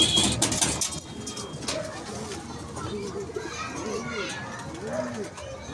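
Soft, low cooing from pigeons repeats in rounded bursts nearby, mixed with people talking and children's voices in the background.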